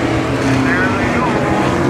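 Race cars pulling away at the start of a feature race, a dense roar of engines that holds steady and loud throughout the brief moment, with a commentator's voice over the top.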